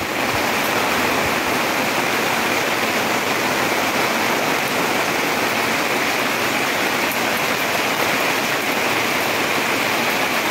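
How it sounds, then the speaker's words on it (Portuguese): Heavy rain pours down steadily in the Brazilian sertão, a dense, loud, unbroken roar of falling water with no voices. "Coisa boa é chuva, rapaz."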